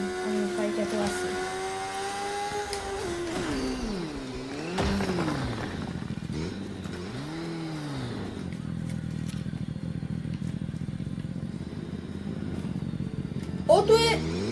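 A motorcycle engine in Fortnite drones steadily and swoops up and down in pitch as it revs and accelerates, with a clatter near the end, under people talking.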